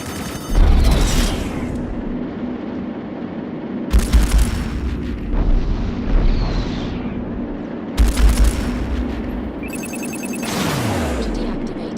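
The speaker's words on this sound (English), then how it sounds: "Missile launched." A missile launch and explosions in the space combat game Strike Suit Zero: Director's Cut, with heavy booms roughly every four seconds over a steady humming and ringing background, ending in a falling whoosh.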